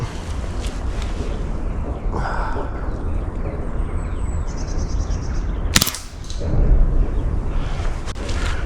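A single sharp gunshot rings out outdoors at a winter survival campsite, loud and close, partway through a stretch of low outdoor rumble.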